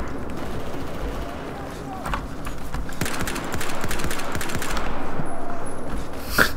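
A DMR rifle firing in Battlefield 4: repeated sharp cracks mixed with surrounding gunfire and battlefield rumble, getting denser and louder partway through, with voices heard now and then.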